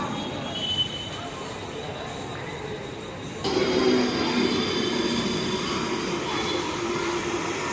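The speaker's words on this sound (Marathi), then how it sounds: "एक जलद गाड़ी जाने वाली है।" A fast train rumbles steadily through Badlapur station in Maharashtra, growing louder midway as it rushes past, with a continuous roar and faint metallic rail noise throughout.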